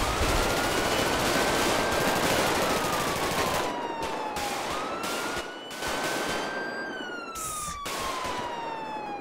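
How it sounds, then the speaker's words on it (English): Gunfire in a GTA 5 FiveM police chase video game, heard as loud rapid shots mixed with a wailing police siren that rises and falls continuously, with engine noise underneath. "Shots fired."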